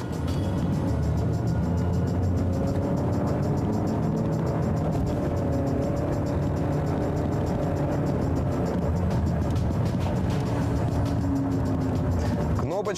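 A car accelerates in Sport mode, its engine droning and rising in pitch through gears beneath steady road noise, with someone talking over it throughout.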